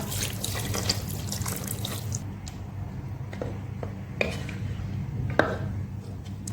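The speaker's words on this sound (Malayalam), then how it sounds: "ചൂടാറിയ വെള്ളം കൂടി ഒഴിച്ചു കൊടുക്കുന്നുണ്ട് കേട്ടോ" Lukewarm water splashes and trickles into a pot of Afghani chicken gravy, followed by a few clinks of metal and light dripping, no voices.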